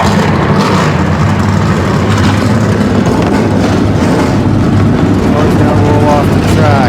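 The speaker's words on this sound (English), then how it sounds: "Drivers, start your engines!" Race car engines fire up and roar in a NASCAR racing video game at Calder Park, a dense, loud, continuous engine drone with a voice speaking over it.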